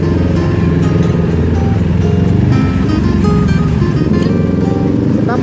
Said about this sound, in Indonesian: Akhirnya macet deh.